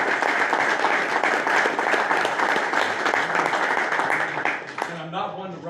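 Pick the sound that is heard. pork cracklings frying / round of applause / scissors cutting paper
round of applause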